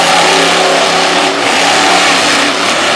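A big square body monster truck from Louisville, Kentucky revs hard at a monster truck event, a loud sustained engine roar with rising and falling pitch and no voices on top.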